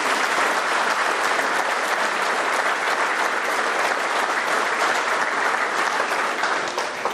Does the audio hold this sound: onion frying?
no